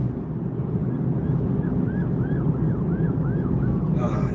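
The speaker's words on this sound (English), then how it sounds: "it wouldn't be a summer night in Philly without the sounds of sirens" Emergency vehicle siren wailing in repeated rising and falling sweeps on a Philadelphia highway on a summer night, moderately distant over the constant loud rumble of road and engine noise inside a moving car.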